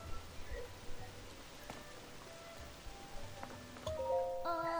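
Rain falls in the video game Zelda Tears of the Kingdom, a faint, steady patter and hiss beneath sparse chiming game tones that grow slightly louder near the end.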